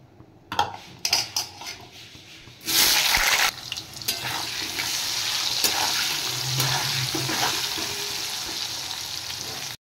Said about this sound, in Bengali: কড়াইয়ে তেল দিয়ে দিয়েছি। এবার আমি আলু ভেজে নেব।